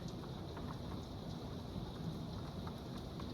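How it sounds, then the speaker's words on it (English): Heavy rain pours steadily during a thunderstorm, a dense continuous hiss of drops hitting outdoor surfaces with a low rumble of thunder underneath, evenly loud throughout with no voices. "Holy crap, it is getting soaked out there."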